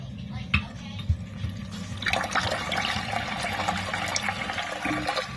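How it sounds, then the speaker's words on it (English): Water running into a toilet tank as it refills after a flexible flapper replacement, a steady rushing and trickling fill with a few brief knocks early on, close by and moderately loud. "So now what we're going to do is just turn on our water."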